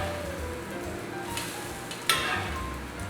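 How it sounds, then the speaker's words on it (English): Pancake batter for cinnamon-stacked pancakes sizzles quietly on a hot griddle after flipping, a soft continuous frying hiss with a couple of brief louder crackles, no voices. "So just flip them over. They'll take another minute or so"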